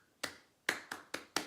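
Hands clap a short rhythm in a second-grade music class demonstration: five crisp, close claps in a quick uneven pattern, one then a pause, then four in faster succession, in an otherwise quiet room.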